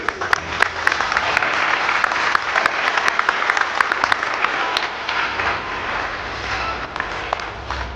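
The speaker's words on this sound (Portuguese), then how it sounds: "recebam uma forte salva de palmas" Strong, sustained applause from a business conference audience welcoming tax-solutions CEO Isaac Mendes to the stage, dense clapping with sharp individual claps standing out, tapering slightly toward the end.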